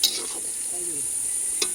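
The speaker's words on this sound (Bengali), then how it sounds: "চিলি চিকেন হচ্ছে, মশলা দেওয়া হয়েছে" Chili chicken with spices sizzling as it fries in a pan, a steady close hiss of hot oil with a brief clatter of stirring near the end.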